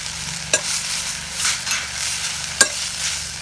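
Mudakathan greens and cumin sauté in hot oil, a close, steady sizzle with two distinct scraping knocks of a stirring spoon, no talking.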